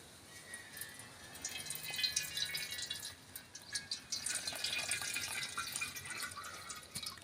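Hot medicinal joint-pain oil with camphor and benzoin poured through a filter into a vessel, a faint continuous trickling and dripping of liquid, close by and quiet with no speech.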